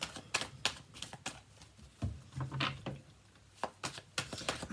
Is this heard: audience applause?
no